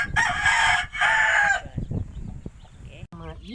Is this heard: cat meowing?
no